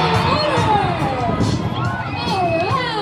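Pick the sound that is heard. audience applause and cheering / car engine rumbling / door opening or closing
audience applause and cheering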